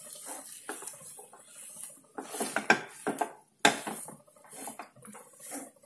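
Sweet Diwali dough flavored with cardamom powder is stirred in a pan, making close, intermittent scraping and clinking of a utensil against metal, with soft pattering between strokes.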